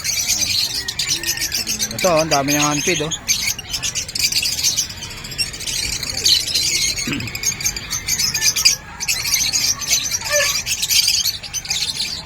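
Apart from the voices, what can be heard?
pet birds, such as conures, squawking and chirping at Bocaue pet market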